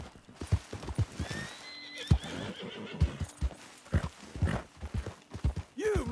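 A horse neighs and whinnies in Red Dead Redemption 2, with a rising whinny near the middle and a snort at the end, over steady clip-clop hoofbeats on a dry desert homestead; a voice speaks briefly.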